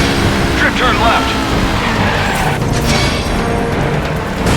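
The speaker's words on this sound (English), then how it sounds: "After the slide, you'll move real quick into a hard drift left, so be ready for it." A car drifts hard with tires squealing in the stunt driving video game Stuntman Ignition, a loud continuous rush of engine and skidding with no pauses.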